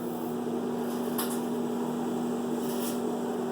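Microwave oven running on high while heating chili in its can: a steady, even electrical hum with a constant low drone throughout, close by, broken only by two faint brief ticks, with no talking.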